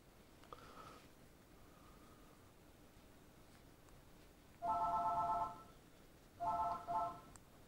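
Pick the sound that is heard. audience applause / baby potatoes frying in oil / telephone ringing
telephone ringing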